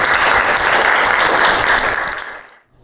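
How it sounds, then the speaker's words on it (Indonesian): Dense group applause in a classroom during a biology teaching-practice lesson, steady and fairly loud for over two seconds before tapering off and cutting to silence. "Tepuk tangan untuk Danis tim."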